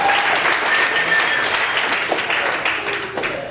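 A theater audience at a stand-up comedy show fills the space with dense, continuous applause and clapping.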